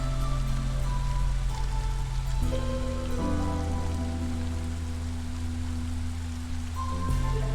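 Steady rain falling in the video game Against the Storm, a continuous even hiss of drops on surfaces under a low tonal music bed, with no speech.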